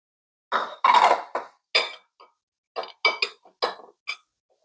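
Caesar salad with grilled shrimp and sauce being tossed in a bowl, giving irregular bursts of clinking utensils against dishware with short pauses between, close and fairly loud.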